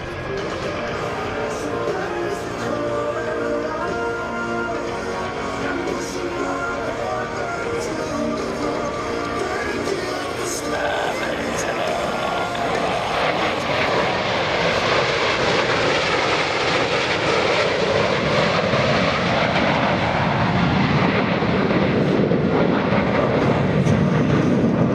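The US Navy Blue Angels four-jet diamond formation roars past at an airshow at NAS Oceana, a loud jet rumble swelling from a distant whine into a broad, rushing roar that builds steadily.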